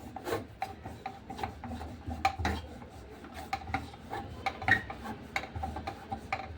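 A rolling pin works oiled chapati dough on a board in a steady rhythm of soft rubbing strokes and light wooden knocks, close and fairly quiet, with no voices.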